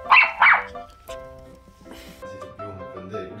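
A pet dog at a rural house gives two sharp barks up close, followed by softer whimpering and whining sounds with a faint low murmur underneath.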